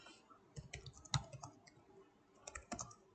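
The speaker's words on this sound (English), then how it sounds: "you can still hear me typing" A computer keyboard clicks in soft, quick bursts of taps with brief pauses between them, quiet and close.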